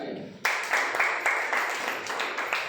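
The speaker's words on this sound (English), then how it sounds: "Clap it" A child taking part in a blindfold activity claps hands in a quick, steady series, starting suddenly after a brief quiet. The claps are close by and fairly even in loudness.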